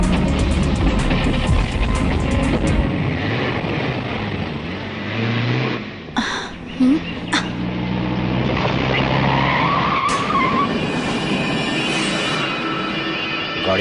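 Car tires screech and skid loudly in a Tamil action film scene, a long continuous squeal with engine roar, briefly dipping mid-way before swelling again, with no talking.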